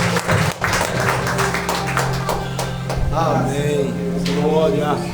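A church congregation applauds to praise God, a steady wash of clapping that fills the room while a voice speaks over it.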